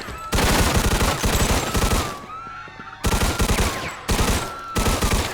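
Loud bursts of automatic gunfire tear through a bar in the video game Mafia 2, arriving as dense rapid volleys that break off into short pauses before starting again.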